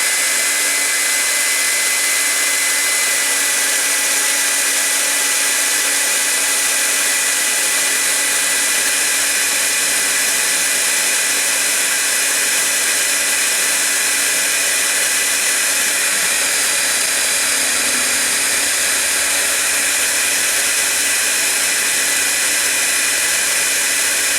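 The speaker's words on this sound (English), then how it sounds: "So now we'll hit it with the heat gun again" A heat gun blows continuously and loudly while warming a circuit board in a Panasonic AG1970 VCR, a steady, unbroken airy roar throughout.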